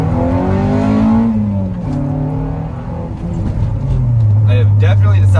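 A JDM Honda Integra with unsorted suspension is driven through corners, its engine note rising and falling loudly while the tires rub and scrape against the body, captured from inside the car.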